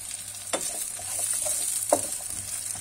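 Potatoes and carrots frying in a pan for a broccoli and cauliflower dish, a steady high sizzle with two sharper stirring scrapes, no voices.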